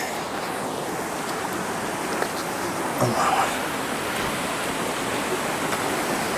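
A distant waterfall and rushing river on Mount Salak, a steady broad rush of water running continuously, with a brief louder splash or knock near the middle and no talk.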